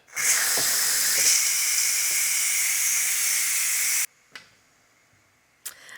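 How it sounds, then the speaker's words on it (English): Steam from a Ninja Foodi pressure cooker cooking a Mexican pot roast with rice and beans hisses loudly and steadily during manual pressure release for about four seconds, then cuts off abruptly, followed by a couple of faint clicks. "let's go ahead and manually release the rest of the pressure"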